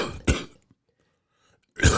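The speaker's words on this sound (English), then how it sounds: "Let me clear my throat for just a moment" Two short, rough throat-clearing bursts, close and fairly loud, separated by a stretch of near silence.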